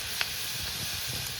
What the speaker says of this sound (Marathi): त्यानंतर टाकूया हिंग